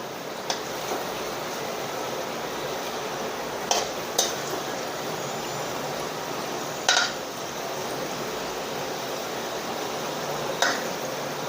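Karanji deep-frying in oil over a low flame give off a steady, even sizzle and hiss, broken by a few light clinks of a utensil against the pan.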